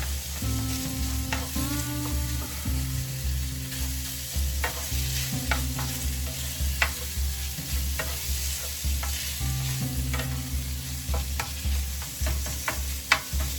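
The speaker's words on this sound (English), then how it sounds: "You want to stir it up, get it nice and chopped up." Sausage gravy for biscuits and gravy, made with sausage, milk and flour, stirred in a pan over a Coleman lantern: a steady sizzle with repeated scraping strokes of a utensil and occasional sharp clicks, with no talk.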